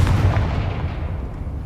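A Confringo fire-blast spell explodes in the Hogwarts Legacy video game: one loud, booming blast that rolls off into a rumbling decay, with no talking.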